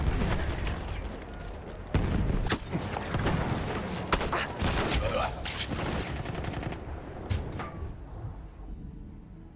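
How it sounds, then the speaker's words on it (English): In the Battlefield 1 first-person shooter, a grenade explosion and heavy gunfire crackle through a busy battle, with sharp rapid shots and thuds layered over steady noise that thins out toward the end. "Grenade out, mate."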